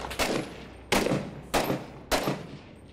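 Four evenly spaced heavy gunshots in Six Days in Fallujah, each a sharp loud crack with a short echoing tail, firing alone without talk.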